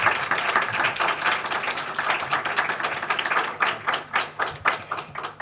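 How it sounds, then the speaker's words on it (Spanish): Applause welcoming the Chilean poet Elvira Hernández at a university literature colloquium, a strong, close round of clapping from a room full of people that rises, holds and begins to taper unevenly. "Si le podemos dar un aplauso, por favor"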